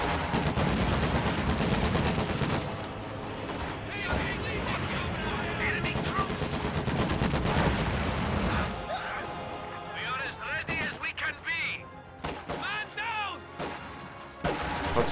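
Infantry combat in a real-time strategy video game, with Volksgrenadiers fighting conscripts in a house: dense rattling gunfire and bursts that run steadily under a loud, busy mix of battle noise.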